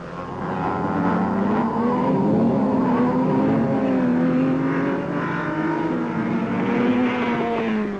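Ferrari race cars from 1961 lapping at speed at Le Mans, a loud continuous engine roar with rising and falling pitch as the cars surge past, steady and close throughout with no voices.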